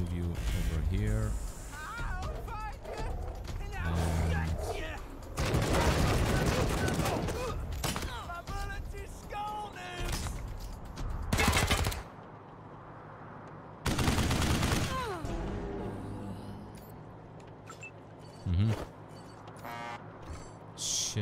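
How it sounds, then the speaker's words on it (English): Heavy gunfire from the PC video game Wasteland 3: dense bursts of automatic fire and fusillades come in waves, several loud and sustained, with quieter stretches of scattered shots in between. "that's some heavy shooting."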